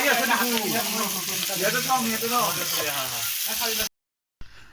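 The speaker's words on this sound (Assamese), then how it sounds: "এই বিলাহী অলপ পিঁয়াজটো হেৰি কৰি ভাজি লওঁ" Steady sizzling of tomato and onion frying in a pan, with a voice talking over it before the sound cuts out abruptly.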